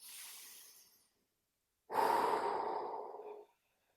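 Two deep breaths during a yoga stretch with a block, a soft fading exhale followed by a pause and then a longer, louder, breathy exhale, heard close and alone with no talking.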